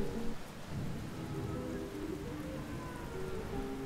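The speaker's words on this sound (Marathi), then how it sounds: "सरीवर सरी कोसळतायत." Steady monsoon rain pours down on an evening, a dense continuous hiss of drops on surfaces, close and even throughout with no voices.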